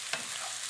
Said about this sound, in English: I'm going to mix it in well as I saute